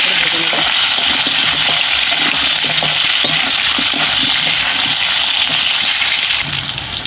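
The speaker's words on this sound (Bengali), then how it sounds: "আলুটাকে আমি একটু লাল লাল করে ভেজে নেব।" Potatoes with pointed gourd fry in hot oil until reddish, giving a steady, loud, dense sizzle that continues without a break, with faint clinks of stirring underneath.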